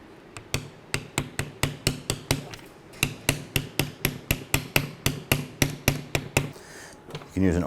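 Repeated sharp metallic taps of a hammer on an oversized socket, driving a CV axle boot onto a 2012-17 Toyota Camry axle, struck about twice a second in a steady rhythm, close and clear.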